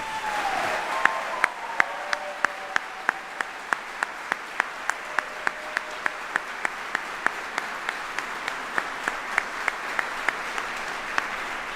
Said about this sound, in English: please join me in a round of applause for the Old Guard soldiers.